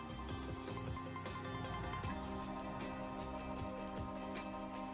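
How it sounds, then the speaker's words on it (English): Steady rain patters throughout a racing video game session, heard close and even-toned under a sustained background of harmonic engine and music tones, with no pauses and no speech. "Can have rain on race day."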